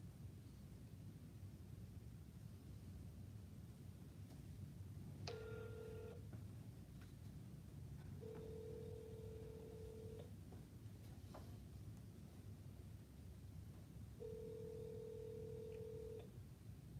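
A telephone rings out unanswered in a quiet room, with three separate ring bursts spaced a few seconds apart over a steady low hiss, no voices.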